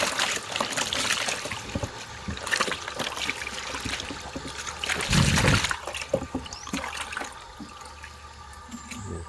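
Water trickles and splashes steadily and continuously close by, with a louder gush partway through.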